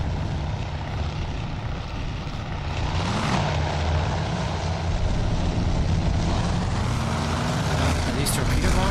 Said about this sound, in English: Are these torpedo bombers? Looks like they are.